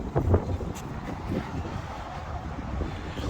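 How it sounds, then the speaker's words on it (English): Strong wind buffets the microphone in a steady, loud roar with low rumbling gusts, continuous throughout and with no voices, outdoors in Glasgow, Scotland. "This is how windy it is."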